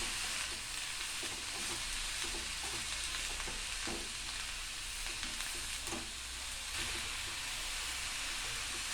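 Onions dry-roasting in a pan with no oil give a steady, close hiss and crackle throughout, with occasional scraping taps of stirring, and no voices.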